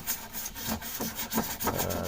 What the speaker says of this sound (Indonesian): Nah, amplas sampai betul-betul rata dan cat tidak ada lagi ya.